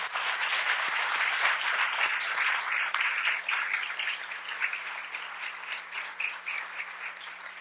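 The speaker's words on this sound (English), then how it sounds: "I'd like to do one more round of applause for all our presenters this evening." An audience claps for the evening's presenters at the 2013 SCMS special event honoring Alexander Doty, dense, close applause that starts strong and gradually thins out toward the end.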